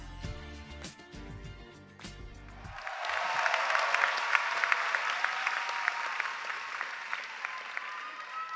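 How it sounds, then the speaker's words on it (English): At a 2022 high school graduation ceremony, a large audience breaks into sustained applause as music fades out, the clapping swelling and continuing steadily to the end. "Let's give him another round of applause, please."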